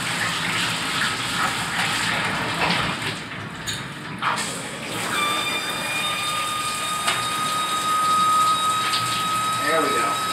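Water gushes steadily from a tap into a bathtub while a dog is being bathed, a continuous close rush that runs underneath a person talking.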